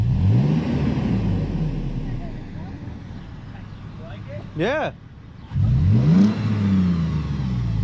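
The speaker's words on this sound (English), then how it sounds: "There's the engine noise you were looking for." A 2018 Toyota 4Runner engine with an aFe cat-back exhaust revs, rising and falling in a throaty roar, building in waves, with brief voices speaking in between.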